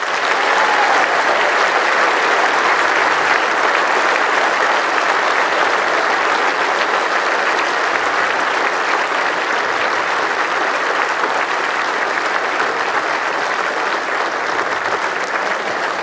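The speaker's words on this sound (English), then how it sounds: "Please give a warm round of applause for the runner-up" Spectators at the 2015 women's indoor lawn bowls championship give sustained, dense applause for runner-up Katherine Rednall, loud and unbroken with no talk over it.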